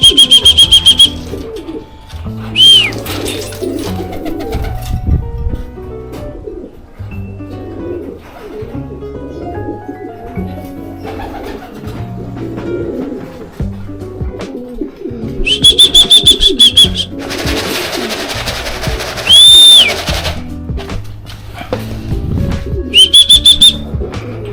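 Racing pigeons at the loft during a derby race, low throaty cooing heard repeatedly throughout, with several loud shrill whistle blasts in bursts over the top.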